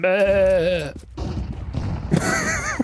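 A person imitates a goat with a wavering, nasal bleat, followed by a brief pause and then a second shorter, higher bleat over light background noise.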